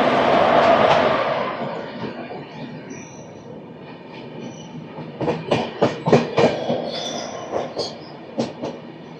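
A train with a WAP4 locomotive near Secunderabad station rolls past, an initial rumble fading into a quieter stretch, then a series of sharp rhythmic wheel clacks over rail joints with brief squeals.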